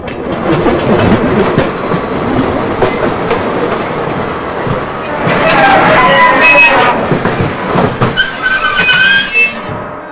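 A passenger train rolls along its rails with steady rumble, wheel clatter and brief squeals, loud and continuous throughout, while people talk over it in the carriage.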